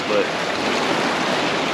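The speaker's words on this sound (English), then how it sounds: "Probably can't hear me because it's so windy out here and so many waves." Strong wind buffeting the microphone and waves washing on the Lake Mead shore, a loud continuous rushing roar with a brief spoken word at the start.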